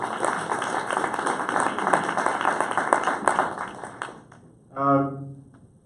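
Audience applause at a mentor day event, steady clapping for about four seconds that cuts off, followed by a brief voice.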